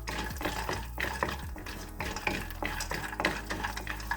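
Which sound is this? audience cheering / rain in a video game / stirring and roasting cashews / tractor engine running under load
stirring and roasting cashews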